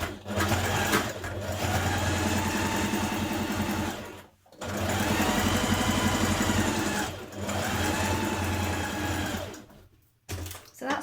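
A sewing machine runs a zigzag stitch along a pocket seam in three sustained bursts of fast mechanical whirring, close and steady, with brief pauses between the runs.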